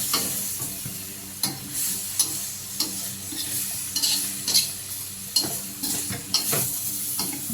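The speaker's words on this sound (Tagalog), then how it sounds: "Luluto sa sariling mantika na." Homemade chicharon pork rinds frying in their own rendered fat, a steady bubbling sizzle punctuated by repeated scraping stirs and clinks of a utensil against the pan, close and continuous.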